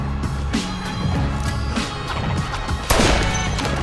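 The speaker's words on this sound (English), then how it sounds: "Was that a gunshot?" Gunfire crackles amid a busy action soundscape in a Saints Row game trailer, with scattered shots over steady background noise and a louder burst near the end.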